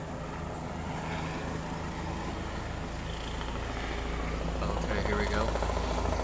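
Turkish police helicopter passing overhead, a low continuous rotor drone that swells slightly toward the end, heard from the ground at moderate distance with faint background sounds.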